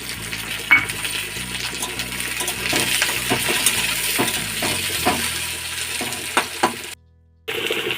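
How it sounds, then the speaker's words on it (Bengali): Chopped tomato goes into a pan of frying onion for a mustard greens curry, with a steady close sizzle broken by sharp metallic clinks of a spoon against the pan and a brief dropout near the end. "টমেটো কুচিটা দিয়ে দিই"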